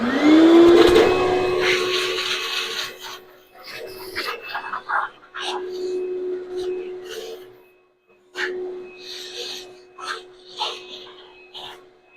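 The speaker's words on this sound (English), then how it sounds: "let's vacuum it out again." A vacuum cleaner sucks out sanded wood, starting with a loud steady whine that then breaks into uneven bursts and pauses as the nozzle moves around.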